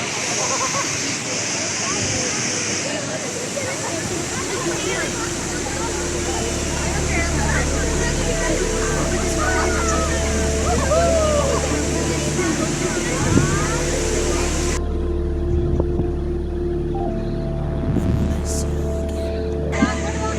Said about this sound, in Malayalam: ലിങ്സിയർ ഫാൾസ്. ഒരു കിടിലൻ സ്പോട്ട് തന്നെയാണ്.